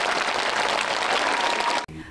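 Steady, dense applause from a large audience at an outdoor City Day concert, continuous and fairly loud before cutting off abruptly near the end.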